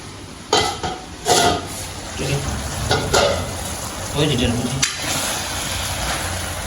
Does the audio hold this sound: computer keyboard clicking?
no